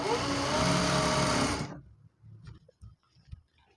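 A sewing machine runs steadily along the edge of gathered pants for a second and a half, loud and close, then stops abruptly, leaving faint handling sounds and light thumps.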